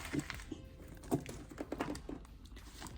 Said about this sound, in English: So let's just take the keys off.